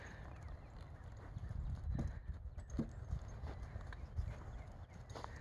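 Hooves of a curly-coated horse clip-clop in a steady trotting rhythm during a western riding lesson, moderately near over a low rumbling background, with no one speaking.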